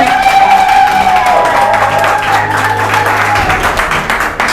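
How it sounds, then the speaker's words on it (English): An audience applauds a speaker being introduced at a TED-style talk event, with loud, dense clapping that holds steady throughout and eases slightly toward the end. "Un applaudissement très fort pour Oumi."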